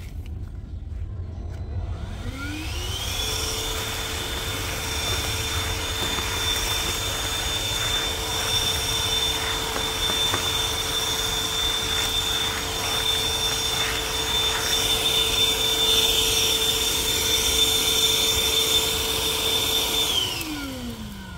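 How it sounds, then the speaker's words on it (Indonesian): A Bosch cordless vacuum cleaner fitted with a nozzle sucks up wood dust, spinning up to a loud, steady motor whine that holds for about eighteen seconds before winding down. "Kita akan coba menggunakan mesin vacuum cleaner cordless dari Bosch."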